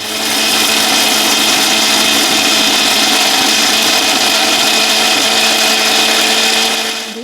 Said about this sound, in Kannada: ಮಿಕ್ಸಿ ಜಾರಲ್ಲಿ ಈ ರೀತಿಯಾಗಿ ಫೈನಾಗಿ ಗ್ರೈಂಡ್ ಆಗಬೇಕು